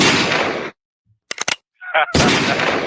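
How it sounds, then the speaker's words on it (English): Gunfire in Gary, Indiana: a quick cluster of sharp, sudden shots sounds in a brief lull, set between stretches of loud, dense noise. "You might even hear a few gunshots."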